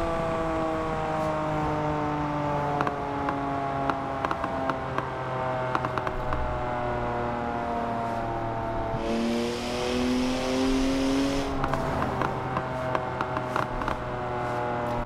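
A BMW Isetta microcar engine revs up and down repeatedly, its pitch rising and falling, close by with no talking.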